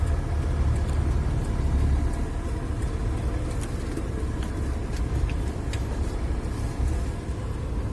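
A work vehicle drives out and swings wide through a turn, its engine a steady, close, mid-pitched drone that holds constant the whole time with no voices over it.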